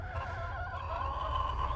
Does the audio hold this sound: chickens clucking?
yes